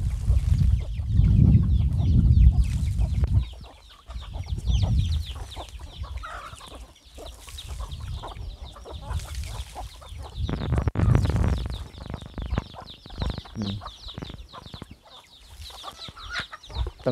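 Chickens, including a hen guarding her chicks, cluck repeatedly nearby, a busy mix of short calls throughout, with a low rumbling noise underneath at the start.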